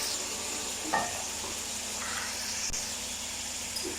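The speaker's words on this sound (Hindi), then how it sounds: "अब इसको थोड़ा सा फ्राई करेंगे घी में अच्छे से" Chicken frying in ghee in a handi for chicken makhni gives off a quiet, steady sizzling hiss with a few faint stirring scrapes, and no one speaks.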